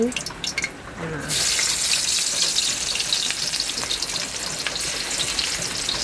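Garlic starts sautéing in a pan for adobo kangkong, bursting into a loud, steady sizzle after a brief spoken moment and then holding a continuous crackling hiss up close.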